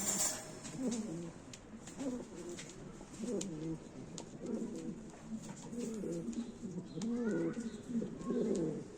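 Pigeons of Bulgarian, Smerlle and Hünkari short-beak breeds coo steadily in a loft, low rolling calls repeating close by with faint rustling and no clear talk.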